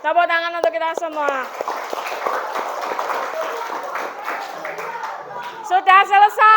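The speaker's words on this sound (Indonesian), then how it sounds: "Tepuk tangan untuk kita semua." A class of fifth-grade schoolchildren claps together in a sustained burst of applause, surrounded by children's voices talking and cheering before and after.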